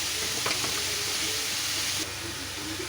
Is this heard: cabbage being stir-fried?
yes